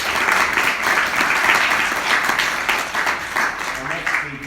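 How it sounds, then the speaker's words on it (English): An audience at a Birdfair 2019 debate gives a loud, sustained round of applause, many hands clapping continuously, with some voices heard in the mix. "So let's have a huge round of applause."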